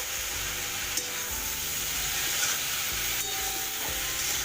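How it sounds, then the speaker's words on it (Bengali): A spoon stirs vegetables with salt and turmeric in a pan for a green bean, potato and poppy seed dish. Soft scraping strokes come every second or so over a low, steady sizzle, close by and without talk. "এবার নুন আর হলুদটা ভালো করে সবজির সাথে মিশিয়ে নেব"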